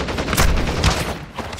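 A grenade blast in Call of Duty: Modern Warfare II multiplayer, with a couple of heavy booming bursts over a noisy battlefield wash, close and loud.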